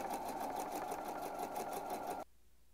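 A sewing machine runs a fast, even stitch along quilt block strips for about two seconds, back-stitching at a steady rhythm before stopping abruptly into near silence.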